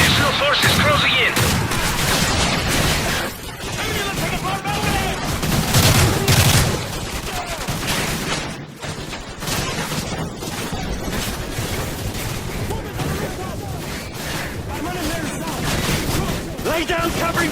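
Heavy covering gunfire from a Modern Warfare campaign mission, with dense rifle and machine-gun bursts and booming artillery rolling continuously near and far, voices shouting over the battle throughout.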